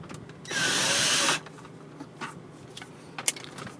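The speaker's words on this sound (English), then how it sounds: "After that is removed, remove the screw here." A power tool whirs for about a second while a screw is backed out of a module in a Honda Accord, followed by faint clicks and rustles of handling.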